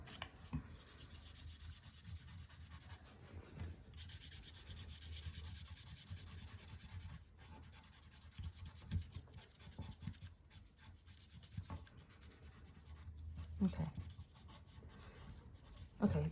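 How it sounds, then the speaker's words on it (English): Colouring in a folded paper semicircle for an art tutorial, with steady close-up scratchy rubbing strokes of a drawing tool on paper, continuous with brief pauses and no talk. "and then I colour in"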